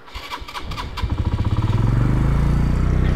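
A motorcycle engine cranks and catches at the start of a bike trip through the Broghil Valley, then settles into a rapid, loud, close, rhythmic idle putter.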